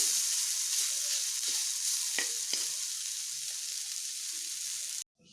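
Fiddlehead fern greens fry with a steady close sizzle in the pan, a couple of brief stirring scrapes breaking through before the sound cuts off abruptly near the end.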